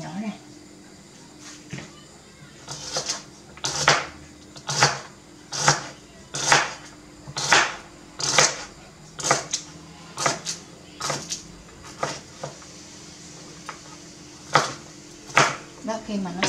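A knife minces purple food on a cutting board in a kitchen, giving a run of sharp, evenly spaced chops, close and fairly loud, with soft kitchen background and no talk over it.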